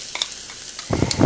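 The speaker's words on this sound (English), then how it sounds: "We're going to sweat the onions to get some flavor" Onions sweating in olive oil for paella in a Spanish kitchen: quiet light sizzle with faint scraping stirs, then a louder burst of frying and stirring near the end, close and unvoiced.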